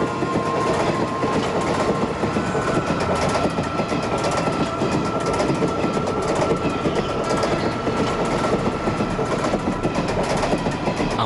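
A train carriage rattles and clatters along the rails, a loud continuous metallic roar with dense rapid clicking and a faint steady whine throughout, with no talking.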